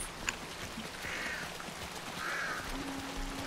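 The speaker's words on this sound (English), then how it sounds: "I could always shoot the crows away" Crows caw twice at a shrine in the Hunt: Showdown video game, two short raspy calls spaced apart over a steady low ambient hiss.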